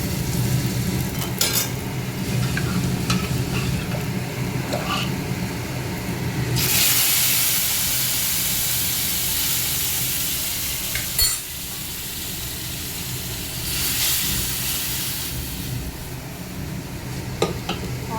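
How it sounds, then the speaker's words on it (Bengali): Onions fry in a pan and are stirred, with a continuous close sizzle that swells into louder hissing bursts and light scrapes of the spoon against the pan. "তো পেঁয়াজটা একটু লাল লাল করে ভেজে নেই।"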